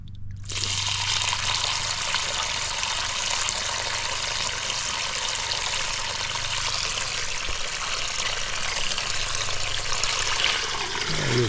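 Water rushes steadily into a swimming pool's filter pump as it is flushed clean of sludge, a continuous close splashing trickle that stays even and loud throughout with no talk.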